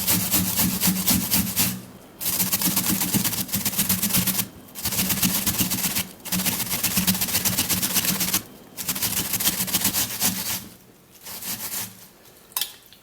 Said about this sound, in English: we're done grating the onion